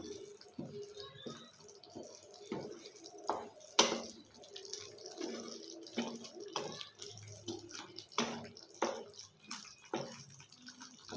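Cashew nut masala curry boils in a pan, with soft, irregular bubbling pops and wet plops that come close and faint over a quiet background.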